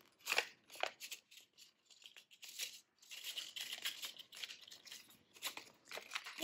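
Paper being folded and creased by hand, close, quiet bursts of crinkling and rustling in uneven short strokes with brief pauses, no voices.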